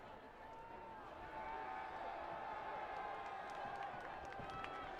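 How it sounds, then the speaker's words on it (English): A crowd of spectators at a high school football game builds into a steady, distant roar of cheering and noise, with an announcer talking over it. "you can hear the crowd in front of us starting to make some noise"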